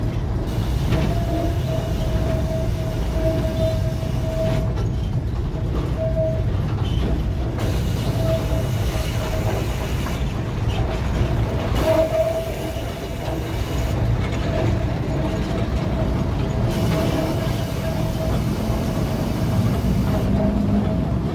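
A molasses freight train entering the Prajekan sugar mill rolls steadily along the rails with a continuous low rumble and faint clicking, a steady hum running throughout at close range.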